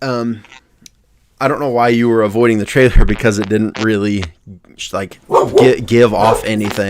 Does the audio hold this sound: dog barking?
yes